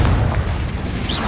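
Confringo fire spell blast from the wizarding game Hogwarts Legacy: a dense, rumbling burst that keeps roaring loudly through the whole brief moment, with no voice over it.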